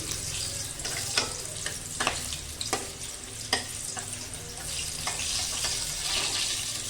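Bay leaf, cinnamon sticks, cardamom pods and cloves crackle and sizzle in hot oil for a chicken curry, a steady close frying hiss broken by sharp pops and spoon scrapes, with no talking.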